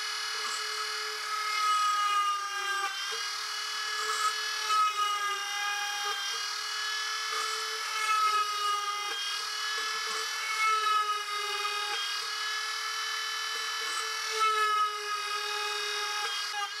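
A steady high-pitched whine of a small hand drill runs continuously, its pitch dipping slightly now and then as the bit bites into a circuit board.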